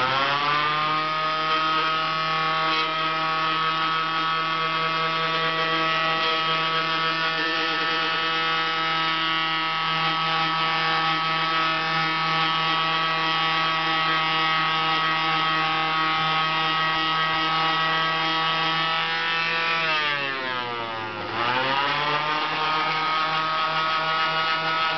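A Flitzer wooden rudder is sanded with an orbital sander fitted with 50-grit paper, making a loud, continuous motor whine and buzz. The pitch dips briefly near the end as the tool is loaded, then recovers.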